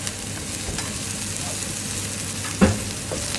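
Onions just added to a pan of golden-browned garlic, a steady broadband sizzle running throughout, close and even, with one brief clink of a utensil near the end and no talking.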